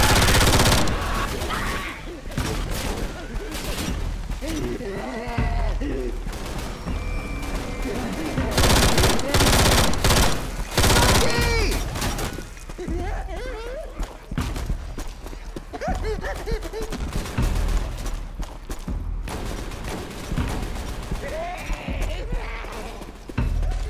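Rapid gunfire fills a chaotic Left 4 Dead 2 expert-mode firefight in The Last Stand mutation, with dense overlapping shots, bursts and clatter running loud and nearly continuous throughout.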